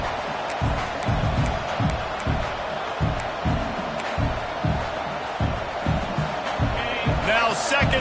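A large crowd at a college football stadium roars as a steady, dense wash of noise with rhythmic thumping and clapping, while a commentator talks over it.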